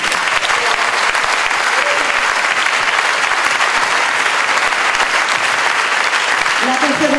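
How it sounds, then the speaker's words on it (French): An audience at a show bursts into loud, sustained applause, a dense wash of clapping that holds steady throughout the clip. "je vous demande d'applaudir Fly Lérandi, s'il vous plaît."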